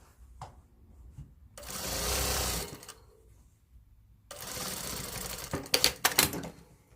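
A sewing machine stitching a bath mat with right-angle bias binding runs in two bursts, the first smooth and continuous and the second with uneven rattling stitches near the end, separated by a pause.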